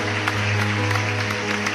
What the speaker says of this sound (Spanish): un aplauso fuerte por ella